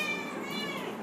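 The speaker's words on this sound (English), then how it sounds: "Henry Jekyll, that's my cat," A house cat gives one drawn-out meow, close and fairly clear, lasting about a second against a quiet room background.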